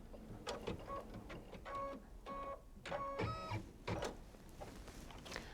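An embroidery machine stitches a tack down line on a quilt beginnings project, a steady run of rapid mechanical ticking and whirring in short repeated bursts, close and alone.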